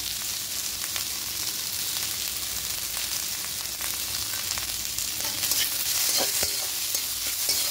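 Chopped carrots, tomatoes and green chillies with salt are stirred and fried in a pan, giving a continuous close sizzle with scraping stirs and small crackles that grow busier toward the end.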